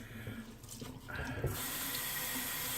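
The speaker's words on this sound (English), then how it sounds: "rinse this brush out" Running tap water rinses out a shaving brush at a sink, a steady broadband rush that swells louder after the first second and then flows on evenly and close.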